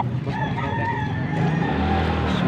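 A Sweater breed gamefowl rooster crows in a long, drawn-out call at moderate distance over steady background noise, with a faint engine hum nearby at what sounds like an outdoor poultry sale.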